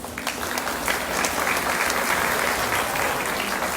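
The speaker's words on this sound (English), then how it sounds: "so they give them a big round of applause" A festival audience at an apple festival queen's contest claps steadily and loudly throughout, a dense continuous wash of many hands with a faint murmur of crowd beneath.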